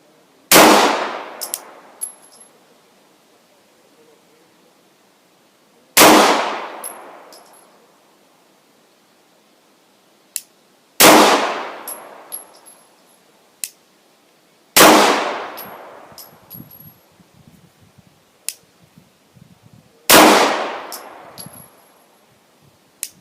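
A Glock 19 Gen 4 pistol fires five evenly spaced shots at a steel target. Each sharp crack is followed by a bright metallic ring that fades over a second or two, with quiet gaps of about five seconds between shots.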